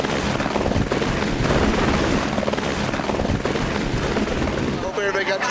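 A helicopter flies overhead at an outdoor community fire-safety event, its loud, steady rotor and engine roar filling the whole stretch, with a voice faintly audible near the end.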